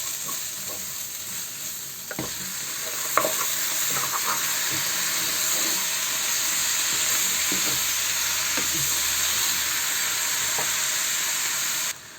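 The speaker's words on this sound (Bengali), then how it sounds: "দুটা লং এবং এলাচ একটু নাড়া দিয়ে আমি মাংসটা দিয়ে দেবো" Meat goes into a hot pan of spices with turmeric, chili, coriander, cumin, cloves and cardamom and fries loudly, a dense continuous sizzle with occasional stirring clicks and scrapes, close and without talk.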